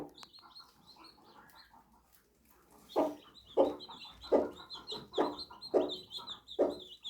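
A mother hen clucks to her day-old chicks, teaching them to eat. Her soft, steady clucks come close and repeat in a regular rhythm, with the chicks' thin, high peeping running throughout.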